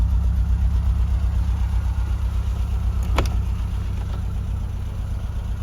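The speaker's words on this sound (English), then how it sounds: "We've got a lovely Mini Clubman." Mini Clubman fitted with an A+ 998 engine ticks over at idle, a steady low throbbing hum close by with a brief click midway.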